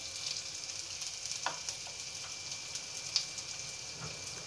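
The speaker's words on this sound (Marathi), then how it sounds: "आता हे छान आपल्याला परतून घ्यायचं थोडासा कलर चेंज करून घ्यायचा" Cashew pieces and whole dried red chillies sauté in a pan with a soft, steady sizzle, broken by a few faint stirring clicks and light pops.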